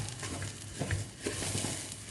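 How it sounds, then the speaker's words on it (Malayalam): Thalassery chicken biriyani masala being stirred in a pan, a soft scraping and gentle sizzle with a few quick clicks of the spoon, close and fairly steady. "ശരിക്കും ഇളക്കണം."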